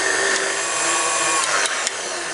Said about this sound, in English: I'm going to put my whisk attachment back on and let this go.